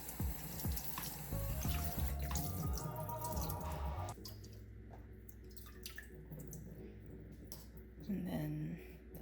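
Tap water runs steadily over dried sea cucumber being rinsed at a sink, with splashing and dripping up close, then a softer, even stream.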